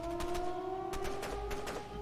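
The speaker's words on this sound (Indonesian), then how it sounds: "what the noise? Suara apa itu? Suara sirene" A siren wails in the Zompiercer video game, a steady two-tone electronic drone held across the whole short stretch at moderate level, with faint background game noises and no talking.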